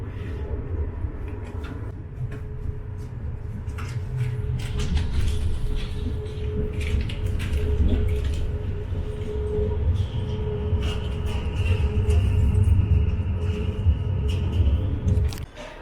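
A train rumbles steadily along the rails on a journey from Vienna to Bucharest, a continuous low roar with rattling and faint clacks, heard from inside a carriage.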